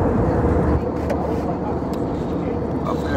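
Steady, full-bodied airplane cabin roar during flight, a dense low rumble with a constant airy hiss layered over it, holding an even level from start to finish with no distinct events.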